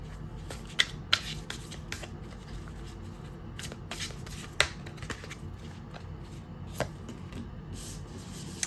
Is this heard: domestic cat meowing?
no